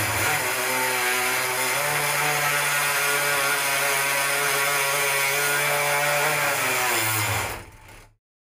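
A bone saw with a fresh blade cuts through a femur during a distal biplanar closed-wedge osteotomy, giving a steady, loud mechanical whine that runs continuously for about seven seconds before cutting off abruptly.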